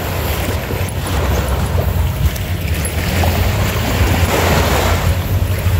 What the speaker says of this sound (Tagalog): Enjoy muna namin ang magandang dagat na ito.